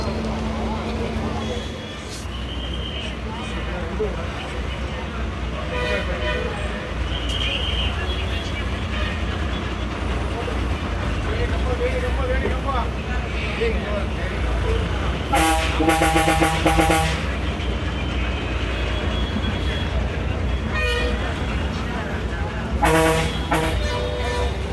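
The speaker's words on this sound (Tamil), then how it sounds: "செம்ம டிராஃபிக்குங்க." Heavy traffic rumbles near Singanallur bus stand in Coimbatore, with repeated bus and vehicle horns honking in short bursts and longer blasts over a constant engine drone, and voices talking in the background.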